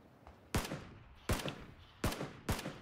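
Four loud gunshots ring out in the PUBG video game, evenly spaced at moderate intervals, each a sharp crack with a short echoing tail.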